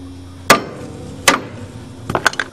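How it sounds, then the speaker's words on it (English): A hammer strikes a pressed-in ball joint post on a control arm, three sharp metallic whacks spaced apart, followed by a quick cluster of lighter taps, close and loud against a quiet background. "I've aimed the ball joint post to a handy spot so it's a good whack with a hammer"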